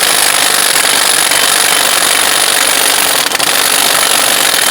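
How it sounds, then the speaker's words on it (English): An impact gun snugs up the CV axle nut on a 2005-10 Jeep Grand Cherokee during a wheel bearing and hub replacement, giving a loud, continuous rapid hammering that runs for the whole stretch with one brief dip near the end. "I'm just going to use our impact gun here just to snug up this nut"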